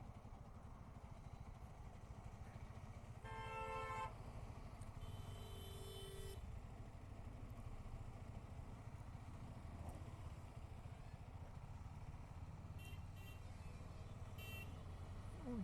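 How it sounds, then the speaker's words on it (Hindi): Heavy road traffic on a motorcycle ride from Kolkata toward Mandarmani in hot daytime conditions: a low steady rumble of engines with a couple of short horn honks near the start and a few faint toots later. "बहुत ट्रैफिक है, बहुत।"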